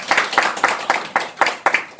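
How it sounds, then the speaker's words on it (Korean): An audience claps at an academic symposium marking the 10th anniversary commemoration of the Iksan April 4th independence movement. The clapping comes in steady rhythmic bursts, moderately loud, with no talk over it. "박수 한번 주시죠."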